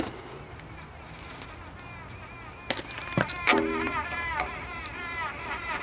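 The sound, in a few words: bees buzzing inside a vent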